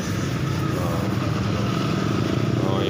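A Yamaha Vixion motorcycle engine idling close by, a steady low rumbling chug with even beats that holds level throughout the clip with no revving.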